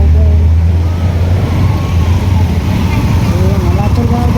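A police vehicle drives past on a road at night in Bhosari, its engine a steady, loud low rumble that fills the scene, with traffic noise around it.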